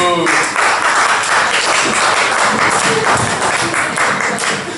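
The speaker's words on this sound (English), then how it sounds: "clap your hands, please, if you've been here to an open mic before" An audience at an open mic comedy show claps and cheers, a loud continuous wash of many hands with voices calling out over it.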